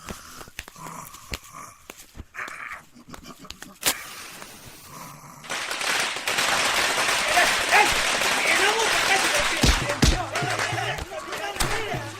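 After brief talk amid a quiet street scene, firecrackers set off in a village street for an arriving minister and party leader burst into a dense, sustained crackle, with voices around it.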